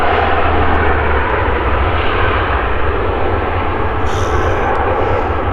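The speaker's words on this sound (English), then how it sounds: "Those propellers, just the sound of them spooling down." Propeller aircraft at Manchester Airport, heard as a loud, steady engine roar with deep low throb filling the whole stretch, close by and without a break, a brief higher whine rising near the end.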